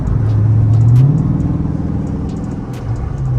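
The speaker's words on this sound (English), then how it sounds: "Toyota driving with some urgency." A Toyota car passes in traffic, a mid-pitched engine rumble that rises briefly as it accelerates, then eases and swells again nearby, with a few faint clicks over the top.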